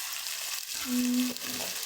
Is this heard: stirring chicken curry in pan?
yes